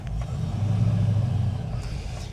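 A Rover 3500S car engine runs steadily at low speed as the car pulls slowly forward, a continuous low rumble with no talk over it.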